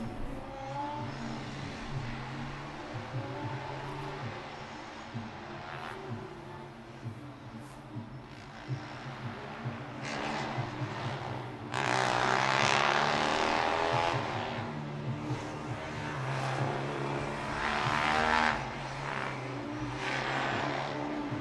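A Formula Student race car, Monash car 66, running during the 2012 FSC endurance finals, its engine note droning and rising as it passes, distant at first and swelling louder midway before receding.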